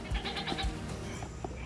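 A young show goat bleats in a small goat nursery, a couple of short nasal calls up close with light thumps and rustling around them.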